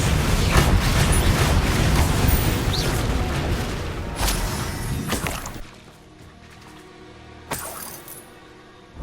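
Incendio fire spell cast in Hogwarts Legacy, a loud, rushing burst of crackling, clattering noise that fades out, then a couple of sharper hits and a bright flare sound near the end.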